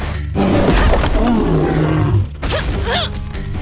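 A cartoon bear lets out a loud, close, rumbling roar that lasts about two seconds, followed by a shorter growling grunt.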